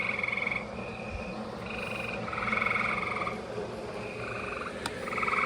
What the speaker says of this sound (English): the frogs are chirping